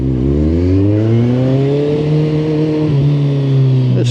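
A motorcycle pulls away from green traffic lights in London, its engine note climbing steadily in pitch as it accelerates, loud and close with a brief dip at a gear change.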